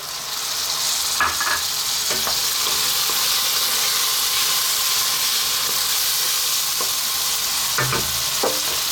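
Peas hit a hot frying pan for matar paneer with a steady, loud sizzle and hiss, broken by a few scraping stirs of a utensil, and no one talks.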